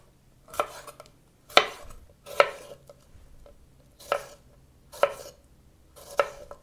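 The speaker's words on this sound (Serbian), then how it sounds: "Očistit ću ovaj središnji deo i iseći ovako na trakice." A knife cuts red, green and yellow bell peppers into strips on a cutting board, six distinct sharp chops landing at irregular intervals, close and clear with quiet gaps between.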